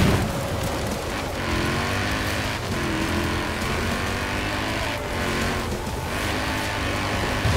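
Engine of a Mini X-raid Countryman Dakar rally car in Forza Horizon 4, a loud, continuous, throaty drone that swells and dips with the throttle, close and steady throughout.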